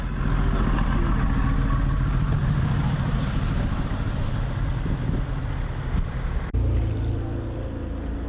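Sports cars, including Ferrari 599s, drive past at a car meet, giving a loud, continuous low engine rumble that holds steady with a brief shift near the end, without talking.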